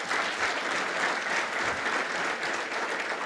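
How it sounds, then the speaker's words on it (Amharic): A church congregation applauds under a pastor's lead, a dense and sustained burst of clapping from many hands throughout. "አጨብጭቡ ለጌታ በእውነት።"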